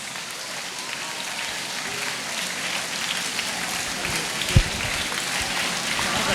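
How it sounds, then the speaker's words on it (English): An audience applauds to welcome a speaker at a school motivation seminar, a steady sustained patter of many hands clapping throughout, with one sharp louder clap near the end. "please welcome him with thunderous applause and"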